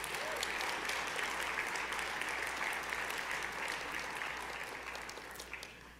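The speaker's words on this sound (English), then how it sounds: "give yourselves a round of applause" Banquet audience at a cartography awards dinner breaking into applause, a steady wash of many hands clapping that holds evenly and slowly tapers toward the end, heard from a distance in a large room.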